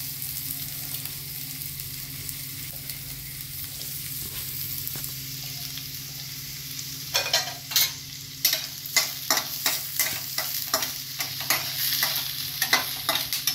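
Onions frying in a pan for a Bengali egg tarka, a soft continuous sizzle that turns into a rapid series of scraping stirs in the second half, close and fairly quiet.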